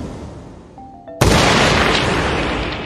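Pistol fired in a Peaky Blinders film scene, a single sudden loud bang that follows a brief metallic click and leaves a long roaring decay, with no speech.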